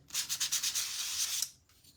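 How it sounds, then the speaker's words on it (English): Sandpaper rubs across the painted top of a craft piece in quick back-and-forth strokes, close and clear, ending in a steady scrape before stopping. "I like to do a little bit of sanding across the top of the paint"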